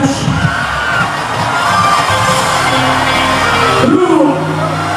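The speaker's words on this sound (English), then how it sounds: "And the Filipino crowd loving it." A Filipino crowd cheers loudly at a basketball game between Qatar and Gilas Pilipinas, with a sustained roar of shouts and whoops that swells near the end.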